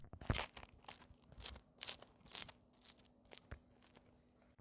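Sharp, crisp crunches repeat several times at an irregular pace, close and fairly quiet, like biting into a crispy Neapolitan pizza crust baked in an Ooni Karu 12 oven.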